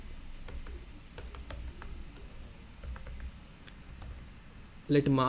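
Rapid typing on a computer keyboard while entering JavaScript code, a steady run of close, light key clicks over low room hum, ending in a brief louder burst.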